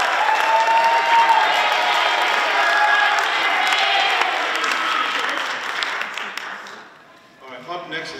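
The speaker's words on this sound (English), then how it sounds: "another round of applause for the Somerset Middle School Jazz Band." A large audience at a school jazz band festival applauds and cheers loudly for a middle school jazz band, sustained clapping that fades out near the end as a voice begins speaking.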